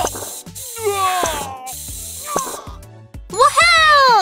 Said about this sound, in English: Let's defeat the bad viruses by spraying medicine!